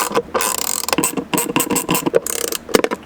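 A ratchet clicks in quick rapid bursts while tightening bolts inside the center console of a 1994–2004 Mustang, close and loud, with brief pauses between strokes.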